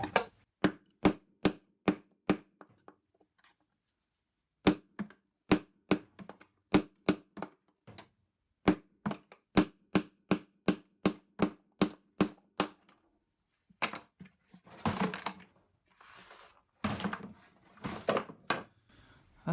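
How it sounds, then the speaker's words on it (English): Sharp metallic taps from a hammer knocking out a worn Merloni Indesit Innex washing machine bearing, delivered in quick rhythmic bursts of several strikes with short pauses, close and loud, followed by scraping and shuffling handling noises. "I'm gonna try a bit of tappy tap tap to"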